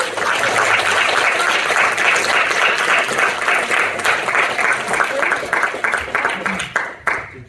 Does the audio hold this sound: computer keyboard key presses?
no